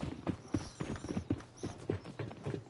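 Horse hooves clip-clop in a survival video game on console, a steady rhythm of close, moderately loud hoof strikes with no talking.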